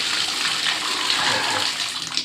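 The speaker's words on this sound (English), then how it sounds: "you turn it on like this. Now the water is going to be running." Water gushes steadily from a bathtub faucet that has just been turned on, a loud, continuous broadband rush of running water filling the tub, close by and uninterrupted, with no voices over it.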